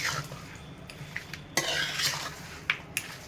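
Chicken being stirred with turmeric in a bowl, with soft scraping and a few sharp clinks of a utensil against the bowl, close and fairly quiet, no voices.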